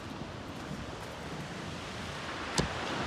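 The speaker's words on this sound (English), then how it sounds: "And crashing waves." Ocean waves wash steadily onto a beach at Corny Point on the Yorke Peninsula, a continuous broad surf rush blended with wind noise, with one brief louder splash near the end and no talk.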